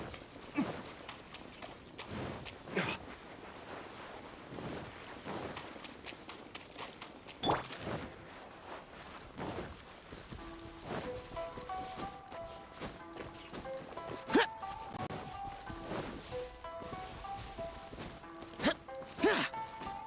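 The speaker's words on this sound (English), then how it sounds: "Oh, now we will watch the firework." Fireworks burst in Genshin Impact during a story quest, a scattered series of sharp cracks and pops spread over twenty seconds with brief twinkling tones between them, fairly quiet overall.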